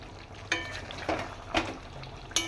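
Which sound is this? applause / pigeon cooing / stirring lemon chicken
stirring lemon chicken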